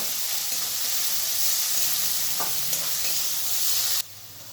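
Chopped tomato, carrot and peas frying in a pan for cheese Maggi masala, giving off a steady dense sizzle with one light stir near the middle, close and even, cutting off sharply near the end.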